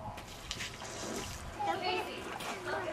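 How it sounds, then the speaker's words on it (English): Water splashes and trickles as a child empties yucky water from a container outdoors, with the pouring sounds mixed under children's chatter. "You're emptying all the water out?"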